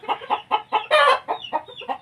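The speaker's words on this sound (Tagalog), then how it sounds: "Ganda manok." A rooster, a Golden Boy cross gamefowl, clucks in a quick run of about nine short, loud calls heard up close, one of them drawn out and harsher, with no talking.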